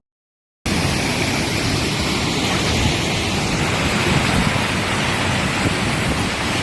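A waterfall rushes in a steady, loud, broadband roar that starts suddenly and holds constant, with no voices above it.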